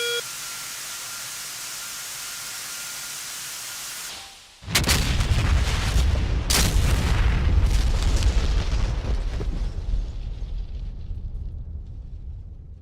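Bombs dropped from an F/A-18C in the DCS World flight game detonate after a short quiet gap, starting with a sudden loud boom and rolling into a long, dense rumble that slowly fades over several seconds.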